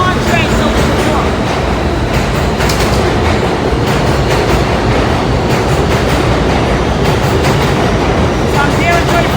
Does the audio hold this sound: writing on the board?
no